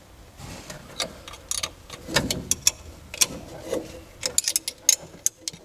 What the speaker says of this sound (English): We now need to remove this vertical bolt.